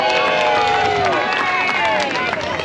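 A fair crowd at a pig race cheers loudly and continuously, with whoops, shouts and clapping swelling near the track, while people talk through the din.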